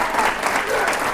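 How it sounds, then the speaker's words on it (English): Audience applause at a student leadership summit, a brief burst of steady, fairly loud clapping from a room full of people. "Let's stand up and give back a old round of applause."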